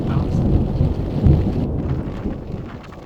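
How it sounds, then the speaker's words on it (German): Thunderstorm in Scotland: heavy rain pours steadily while low, rolling thunder rumbles close by, swelling around the middle before easing back into the downpour. "Das Unwetter zieht schnell weiter"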